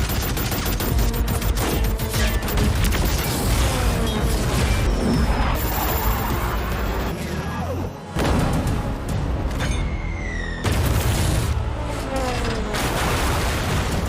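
Dense, continuous gunfire and explosive booms from a battle scene fill the whole stretch, loud and close, with a brief dip near the middle before the firing resumes, and no clear speech over it.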